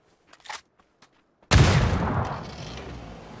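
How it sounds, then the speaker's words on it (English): A grenade explodes in the video game PUBG: a few faint ticks and footsteps, then one sudden loud boom with a long rumbling decay that fades gradually. "It's an actual nade."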